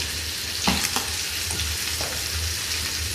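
Scallops sizzle in a hot pan with a steady frying hiss, broken by a few soft clinks and stirring taps. No one speaks.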